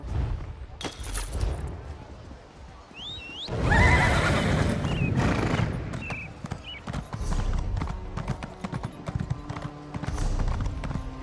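Horse hooves clip-clopping at a gallop in The Elder Scrolls Online, with a loud whinny midway over a busy game soundscape and faint voices in the background.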